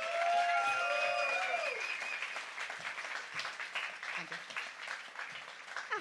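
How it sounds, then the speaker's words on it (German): Audience applause at a science slam, dense and sustained at first with a few whistles, then thinning into scattered clapping as voices continue faintly over it. "Ein großartiger Applaus für die letzte Vortragende des Abends"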